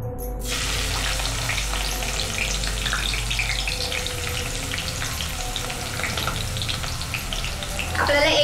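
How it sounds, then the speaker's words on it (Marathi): Sliced onions frying in hot oil for chicken biryani: a loud, even, continuous sizzle that starts with a sharp burst as the onions hit the oil and holds steady throughout, with no voices. "थोडं थोडं करूनच तळायचंय, जेणेकरूनच आपला कांदा जो आहे एकदम क्रिस्पी होणार"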